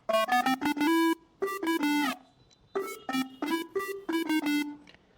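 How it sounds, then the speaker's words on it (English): Soloed retro, mid-range lead synth patch from an Arturia MiniFreak with digital effects and distortion, playing bright, harmonically rich notes in quick melodic phrases with brief gaps, loud and alone. "So here's the lead part soloed."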